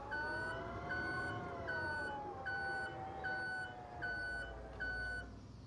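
An electric forklift in the Farming Simulator 25 video game gives off steady reversing beeps, about eight loud, evenly spaced electronic tones repeating over a low engine hum.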